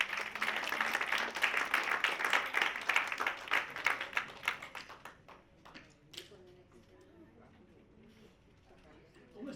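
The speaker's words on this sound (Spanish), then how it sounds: "¿Cuántos le pueden dar un aplauso al Señor?" A church congregation applauding for the Lord during a bilingual Spanish-English service, dense clapping for about five seconds that then thins and fades into quieter room sound with a few scattered claps.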